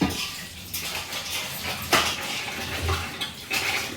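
Water drains from cooked rice for Hyderabadi mutton dum biryani in a cooker, a steady close rushing wash broken by a few metallic clanks of the vessel, with no talking.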